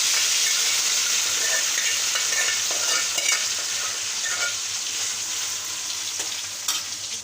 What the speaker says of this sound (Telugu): రొయ్యల్ని ఆయిల్లో వేసేసుకుందామండి